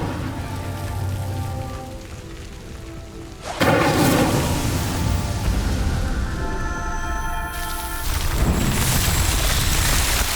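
Crackling roar of the Incendio fire spell cast in Hogwarts Legacy, a sudden loud burst about a third of the way in that flares and sustains, with a fresh surge near the end.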